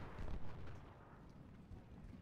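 Cannon artillery fire in the Ultimate General Civil War strategy game, with low, rumbling booms from distant battlefield guns rolling into one another at a steady, fairly quiet level.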